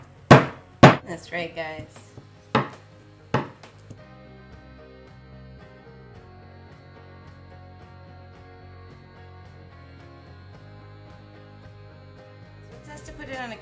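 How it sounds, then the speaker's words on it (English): A rolling pin pounds a block of butter with a handful of sharp, thudding strikes in the first few seconds, followed by quieter background music and a brief spoken remark. "We're gonna pound the butter with the rolling pin to soften slightly."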